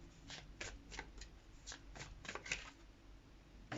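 Tarot cards are shuffled close up in a quiet room, a rhythmic run of soft riffling flicks repeating about every third of a second.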